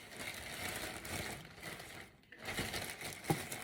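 Paper-towel-wrapped, dampened plant stems being put into a plastic bag: close, soft crinkling and rustling of plastic in short handling bursts, a brief pause, then more crinkling ending in a small sharp tap.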